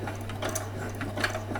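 A sewing machine stitching a button onto small doll jeans, a fast continuous mechanical whir with rhythmic needle ticks, close and steady, no talking.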